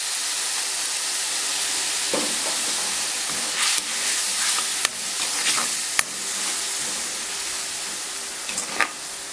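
Water poured into a pan of Thai chili paste with minced pork, seasoned with a little fish sauce, sets off a loud, steady sizzling hiss close up. Occasional faint stirring knocks sound underneath, with no talking.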